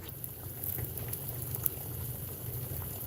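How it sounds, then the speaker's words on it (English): Water at a steady rolling boil in a pot, a continuous low bubbling churn with faint pops, close and fairly quiet, with no talking. "Let's get a little bit more boilage in. We're going to get it as hot as we can get"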